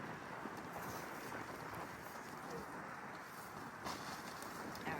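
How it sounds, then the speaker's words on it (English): Wind blowing beside the Ohio River during an outdoor skunk rescue, a steady broadband rush with microphone buffeting, loud and continuous for the whole stretch without speech. "The wind is hitting my back."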